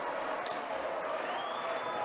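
A crowd in an indoor pool hall at the state swim finals cheers loudly and without pause for a blind swimmer, the roar echoing around the hall.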